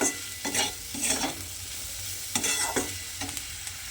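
Potatoes and broad beans cooking in a pan, sizzling steadily while being stirred, with repeated scraping strokes at an uneven rhythm, close and clear with no talk.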